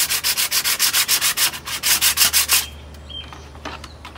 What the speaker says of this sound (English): take your sandpaper and you just really rough it up